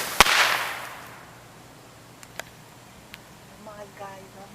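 Consumer fireworks go off with a sharp loud bang followed by a fading hiss, then a few smaller distant pops, with an excited voice briefly exclaiming near the end.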